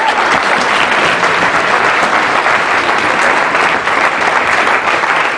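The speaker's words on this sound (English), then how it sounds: "give it a applause back." Loud, steady applause from a dinner audience at the Broward Democratic Party Unity Dinner, a dense wash of clapping that holds evenly for about five seconds with no voices over it.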